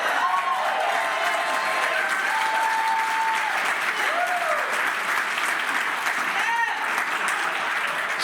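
Audience applause at a community event about a data center coming to town, steady dense clapping throughout with a few voices calling out over it.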